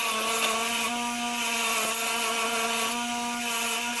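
A cheap handheld grinder scuffs the back of a rubber street luge brake shoe, producing a steady high-pitched motor whine with tonal harmonics and an abrasive rasp, close and continuous throughout.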